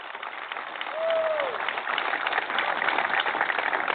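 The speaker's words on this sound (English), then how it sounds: "Give them a big round of applause" Audience applause at a live show swells after a brief voice and becomes steady, dense clapping from a crowd for several seconds.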